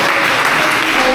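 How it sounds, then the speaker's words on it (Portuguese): Church congregation applauding during a Portuguese sermon, a dense, steady wash of clapping from many hands that fills the whole brief moment at close range. "Dá uma salva de palmas para Jesus."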